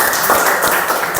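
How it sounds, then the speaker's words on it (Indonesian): Brief applause from a classroom group during a practical exam session, a short, loud burst of dense clapping. "terima kasih, tepuk tangan"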